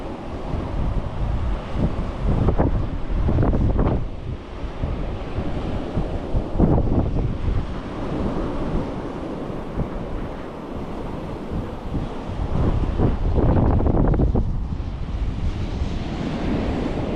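Cold wind blows hard across the beach at Edisto Beach State Park in South Carolina, buffeting the microphone in loud gusts over steady surf, with no talking.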